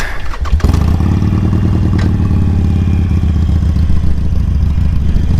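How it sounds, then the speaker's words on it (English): A Harley motorcycle engine cranks briefly with a clattery starter, then catches and settles into a loud, steady, deep rumbling idle with a throbbing low pulse, heard close and alone. "And we're back on the bike. So let's fire it up."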